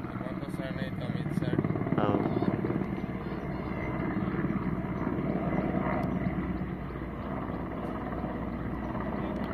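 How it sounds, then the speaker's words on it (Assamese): A helicopter carrying a minister arrives for a landing at a Kokrajhar conference ground, its loud steady rotor thrum and engine whine filling the scene while people talk nearby. "হেলিকপ্টাৰ লৈ আহিছে"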